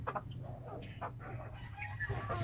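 Rhode Island Red chickens about five months old cluck softly and steadily at close range, with a low background hum running throughout and a few brief higher calls mixed in.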